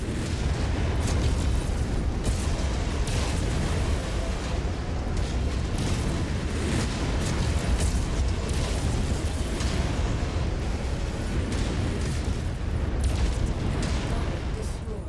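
Incoming missile explosions in MechWarrior 5 Mercenaries: a dense, continuous barrage of loud booms and rumbling blasts with a steady wall of noise throughout.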